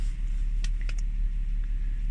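A 2013 Audi A6 with a 2.8-litre CHVA engine and DSG gearbox idles while warming up, a steady close engine rumble carrying a few sharp knocking ticks near the middle.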